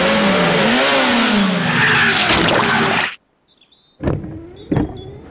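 A cartoon tow truck strains to pull a stuck car, its engine whining and revving loudly for about three seconds before cutting off, followed by a short silence and a couple of sharp mechanical knocks.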